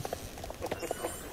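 Horse hooves clip-clop in quick, light, evenly spaced steps in the video game Star Stable, fairly faint, with no talking.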